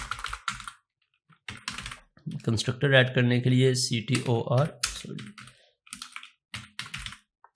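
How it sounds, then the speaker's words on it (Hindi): Rapid clicks of a computer keyboard tap in short bursts while someone speaks over part of them, the keystrokes close and crisp between his phrases. "CTOR और टैब की प्रेस करेंगे कीबोर्ड से"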